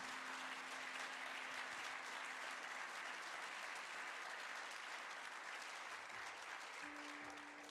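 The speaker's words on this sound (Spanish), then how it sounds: "Dele un aplauso al Señor." Sustained applause from a church congregation, a dense, even wash of clapping that holds steady throughout and fades slightly at the end.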